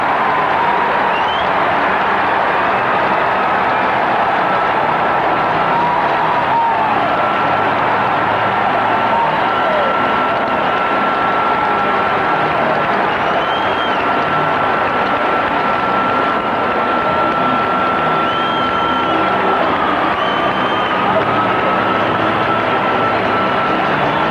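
A large hockey crowd roars continuously inside Chicago Stadium after a 500th career goal, a dense, sustained wall of cheering with a thin whistle-like tone running through it.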